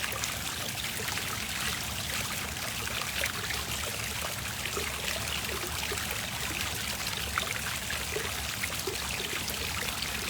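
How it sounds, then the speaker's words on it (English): Water pours and splashes steadily at a big cat enclosure, a continuous broadband rush that stays even and fairly close throughout with no talk. "I'd be relaxed if I was over here with the sound of all this water too."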